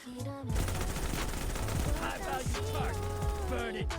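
Rapid bursts of automatic machine gun fire ring out in a video game shooter, a close, dense rattle with several short volleys stacked over a busy background.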